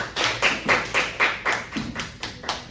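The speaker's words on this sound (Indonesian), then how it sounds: "Tepuk tangan untuk Mbak Raisa." A classroom audience gives a short round of applause, about nine distinct, fairly loud claps in a steady rhythm that gradually softens.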